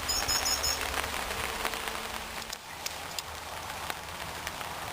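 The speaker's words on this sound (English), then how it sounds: "The rain's getting heavier now." Steady rain patters on a tarp over a woodland wild camp with a mesh hammock, a dense continuous hiss with occasional louder drips, getting heavier, no voices.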